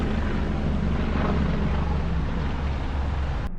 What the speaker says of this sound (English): There's a police helicopter above me.